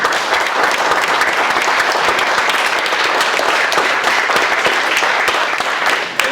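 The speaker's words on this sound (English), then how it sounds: "Give them a round of applause." A room full of people claps steadily for mentors and speakers at a school mentoring orientation for fifth and sixth grade boys, loud and sustained for the whole stretch with no pause.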